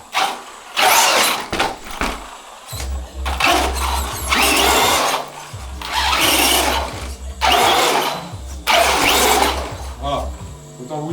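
A Traxxas RC car's small electric motor revs in repeated loud, buzzing bursts with short pauses between, rising and falling in pitch.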